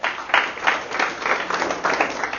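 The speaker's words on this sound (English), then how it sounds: "now clap it up for yourselves one time" A church audience at a community development gathering claps together, with steady, dense applause holding at moderate loudness throughout the short stretch.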